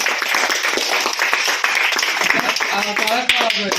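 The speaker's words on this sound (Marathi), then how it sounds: "एकदा आपण जोरात टाळ्या वाजवूया." Audience at a birthday event in an old age home in Shrirampur clapping loudly together, a dense burst of applause with voices calling out over it.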